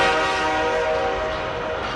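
Loud train horn sounding over rumbling rail noise, used as a sound effect to open a talk show segment on tax troubles, steady for about two seconds with no talk.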